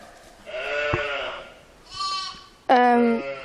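Sheep on a Dutch farm bleat three times in quick succession, close and fairly loud, the last call the strongest and most sustained.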